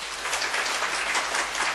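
Audience applause at a Nation Group press conference in Thailand after an executive is introduced: a steady, dense wash of many hands clapping, close and even throughout, with no voices over it.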